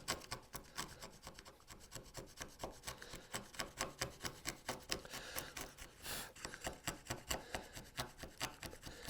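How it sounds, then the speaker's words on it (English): A hand chisel plows out a groove in a wooden workpiece, giving a close, steady run of rasping, scraping strokes in quick repeated rhythm with no talk. "And then I can take my chisel and come in this, like this, and start kind of plowing it out."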